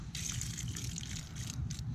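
Water gushing and splashing as it is poured out during carp and bogas fishing in winter, a continuous close pour with slight fluctuations and no talk.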